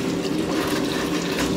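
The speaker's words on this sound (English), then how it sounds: "Very hot water, so I've got to be very careful" Hot water runs steadily from a tap while a Bosch Classixx 1200 Express washing machine is being cleaned; a continuous, fairly loud rushing splash with no talk.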